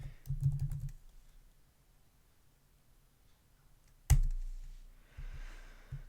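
Brief bursts of computer keyboard typing at the start and a sharp key clack around four seconds, separated by near silence, close and fairly quiet.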